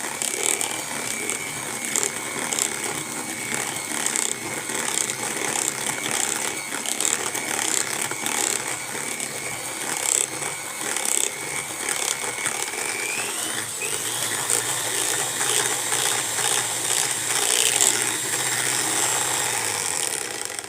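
An electric hand mixer whirs steadily, beating orange cake batter after ghee or oil is added, its motor a constant close buzz with shifting pitch and faint rattling of the beaters against the bowl.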